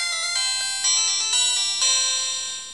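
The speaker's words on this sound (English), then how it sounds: "Please have a good startup sound." A cheap smartwatch powering on plays a bright electronic startup jingle, a few stepped chime notes rising in level, close and clear with no talking over it.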